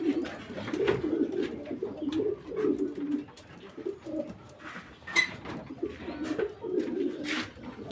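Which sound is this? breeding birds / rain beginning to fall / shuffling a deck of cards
breeding birds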